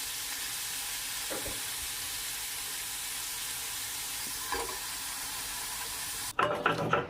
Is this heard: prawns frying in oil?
yes